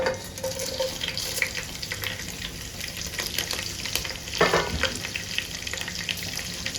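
Garam masala with curry leaves frying in oil for green chilli chicken, a close, bright sizzle with stirring scrapes and a sudden louder burst of hissing midway, continuous without speech.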